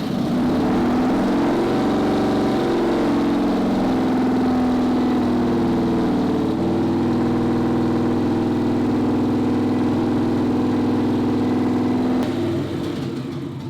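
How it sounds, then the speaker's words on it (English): Victory V-twin motorcycle engine idling steadily with its exhaust running, a loud, even low rumble that holds for the whole stretch before easing slightly at the end. "So start it up, let it run, enjoy the sweet sounds of that exhaust"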